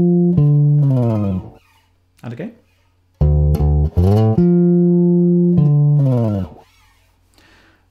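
A deep bass guitar plays a short one-bar line from a song with notes that slide downward in pitch, repeated twice, with a brief spoken phrase between the passes.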